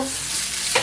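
Chorizo fries in a pan with a bright, steady sizzle, close and continuous, plus a short stirring scrape near the end.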